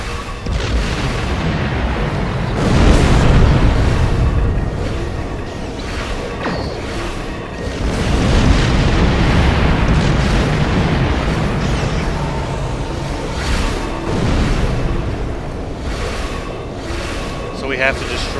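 Station turret explosions in the space combat game Star Trek Online, loud rumbling booms rolling in waves with dense blasts and weapon fire, while a person talks over the action.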